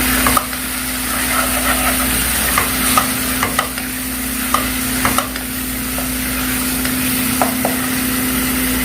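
Masala being stirred into chicken in a pan while it fries, a continuous sizzle with repeated spoon scrapes and knocks at irregular intervals over a low steady hum.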